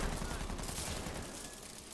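Rapid sustained gunfire in Call of Duty Modern Warfare III Zombies, bursts of shots fired at a vehicle, loud and close, with a voice briefly talking alongside.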